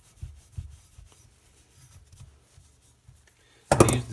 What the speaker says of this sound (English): I use the Dremel to polish it out.